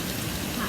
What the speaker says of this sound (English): Okay, let me show you the rain out here.